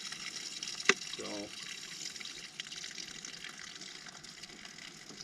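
Cold water runs steadily from a tap as deer meat is rinsed in salty water on an off-grid homestead, a soft continuous trickle with a sharp knock near the start.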